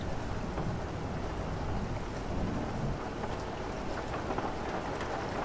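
Steady rain falling on a surface, with a dense continuous hiss of drops and low rumbling underneath, even and unbroken throughout.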